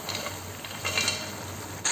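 Fried, chopped mushrooms go into simmering gravy for a street-style kalan snack, giving a soft, even sizzle and light stirring with a couple of brighter scrapes of a utensil against the pan, and no voices.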